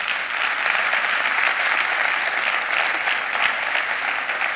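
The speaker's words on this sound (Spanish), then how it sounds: "me gustaría dar un aplauso a Angelín" A carnival crowd gives continuous, full applause for a murga performer at a murga presentation, with the clapping holding steady from start to finish.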